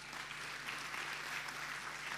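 Crowd at a beauty pageant grand final applauding the contestants, a soft, continuous spread of clapping heard from some distance over a low hum.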